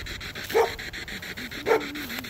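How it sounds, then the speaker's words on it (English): A puppy gives two sharp yaps about a second apart at Black Diamond Cemetery, Washington State, moderately close, with quiet ambient noise and faint panting between them. "that puppy barking at us"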